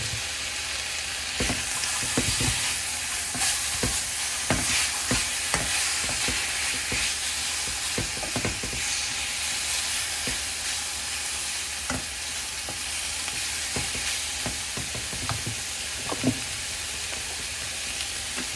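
Garlic and pork belly frying in a pan, a steady loud sizzle running throughout with scattered sharp taps and scrapes of a utensil against the pan, close and without voices.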